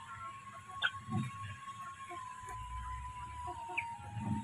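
Chickens cluck softly with a few sharper calls over a steady farmyard background, moderately distant and faint.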